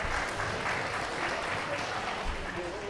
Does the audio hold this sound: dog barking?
no